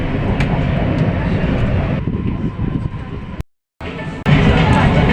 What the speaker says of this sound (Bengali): পিছনে আর একটা ট্রেন।